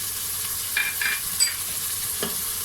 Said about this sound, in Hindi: चनों को हल्का सा 30 सेकंड के लिए भूनेंगे।